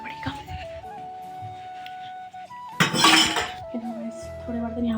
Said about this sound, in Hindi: एक गिलास यहाँ भी तो उसको भी धोना पड़ेगा।